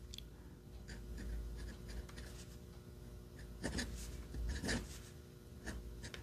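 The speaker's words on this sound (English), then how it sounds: "let's take a look at the Lamy Studio and how it writes" An Imperial Blue Lamy Studio fountain pen with a 1.1 mm stub nib scratches across paper in close, dry strokes, a soft continuous rasp broken by a few firmer scrapes and taps.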